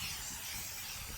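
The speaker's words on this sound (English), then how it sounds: "Why is spray painting so hard?" Aerosol spray paint can hissing steadily onto a plastic toy tote, a close, continuous broadband spray with no pauses.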